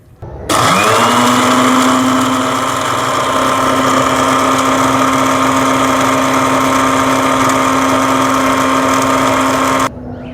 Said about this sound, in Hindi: ठंडा करने के बाद हम इसका सफ़ूफ़ बनाएंगे ब्लेंडर में डाल के